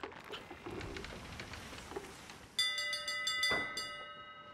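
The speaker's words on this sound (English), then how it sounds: "What's that ringing bell?" Ship bell ringing in the Sea of Thieves pirate video game while sailing, a run of bright metallic clangs in quick rhythm that starts partway through over faint ambient sea and wind noise.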